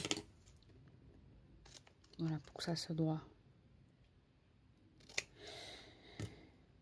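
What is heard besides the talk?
scissors trimming excess paper on an umbrella box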